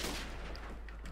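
Gunfire in Call of Duty 4 during a Search and Destroy match, a dense, loud, continuous burst of shots and booming echoes filling the whole short moment.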